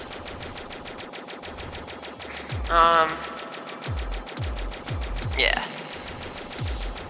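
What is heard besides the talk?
machine gun firing in the video game Stellar Interface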